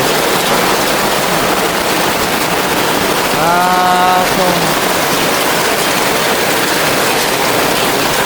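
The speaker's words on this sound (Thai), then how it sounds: "ฝนตกพี่น้องเลย" Heavy rain pours steadily at a forest home, a loud, dense hiss of falling water that holds constant throughout, with a brief tonal hum rising faintly in the middle.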